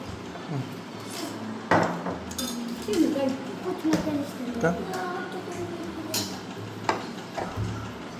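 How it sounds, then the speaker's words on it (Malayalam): Beef curry spooned onto rice on a banana leaf brings light clinks and taps of a serving spoon against a vessel, spaced irregularly with a soft kitchen background. "ഇനി ബീഫ് കറിയിൽ നിന്നും കുറച്ചെടുത്ത് ചോറിലോട്ട് വിളമ്പാം"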